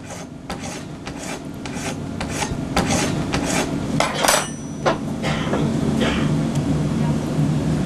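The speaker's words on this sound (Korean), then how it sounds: "활자를 조판에서 인쇄하려면 반드시 쇠줄로 이 찌꺼기를 갈아 제거해야 한다." Iron file rasping residue off metal printing type, a rapid series of sharp scraping strokes that builds in density and loudness, close and gritty with metallic edges.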